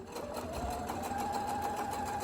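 Sewing machine top stitching along a fabric face mask, running steadily and continuously at close range with a fast even whir and no pauses, no talking heard.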